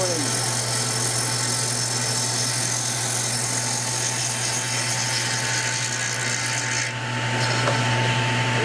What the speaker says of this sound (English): I'm just going to mill that off. Real nice and slow and easy.